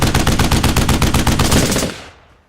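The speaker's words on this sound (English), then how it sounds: "one of my friends, they add the sound to the machine gun" A rapid, loud burst of machine-gun fire rattles for about two seconds, then fades out.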